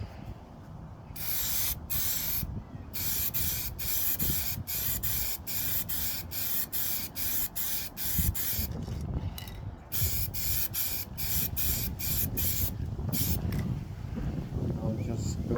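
Spray cans hiss in long steady bursts while paint goes onto an RC plane, with short pauses between passes and a voice talking at times underneath.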